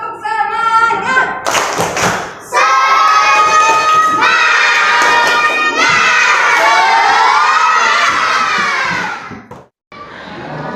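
A crowd of primary schoolchildren at an elementary school in Pontianak shouts a loud spirit cheer in unison with rhythmic clapping and thumps. The voices swell and hold for several seconds, then break off abruptly.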